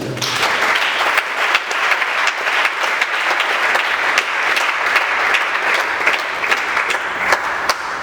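A church congregation applauds the Lord together, a dense, steady wash of many hands clapping with scattered sharper claps standing out, loud and close, sustained throughout with no talk over it.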